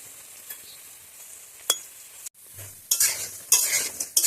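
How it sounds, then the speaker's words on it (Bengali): Curry leaf pakoras frying in hot oil, a soft sizzle with occasional stirring scrapes and clinks, then louder bursts of bubbling and crackling as the fritters are turned near the pan. "বন্ধুরা দেখো বড়াগুলো আমি খুব সুন্দর করে ভেজে নিয়েছি"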